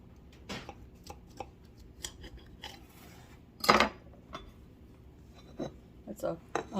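Knife slicing through a warm, runny strawberry rhubarb pie with a crust, giving a few soft crunches and scrapes, one louder cut near the middle, with faint room sound between.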